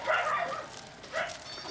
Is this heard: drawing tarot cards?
no